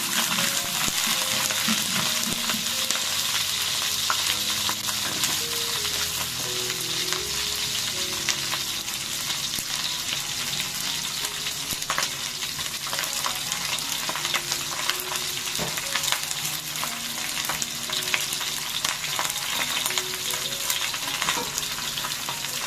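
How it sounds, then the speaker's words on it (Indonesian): Fish frying in hot oil, a steady loud sizzle with crackling bursts running throughout, a few scraping stirs in the background, no voices. "ikannya digoreng saja"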